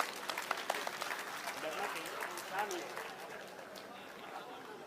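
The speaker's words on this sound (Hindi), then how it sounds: "करतल ध्वनि से हम सब उन्हें आमंत्रित करें" Steady crowd clapping with scattered sharper claps rises and then eases off, a dense wash of applause from a large audience at a BJP membership campaign event, with voices mixed in.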